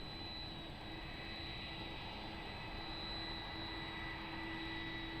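A jet airliner powering up for takeoff on runway 02 at Lisbon Airport, a steady distant roar and whine that slowly builds, with a faint high tone running through it and no talk.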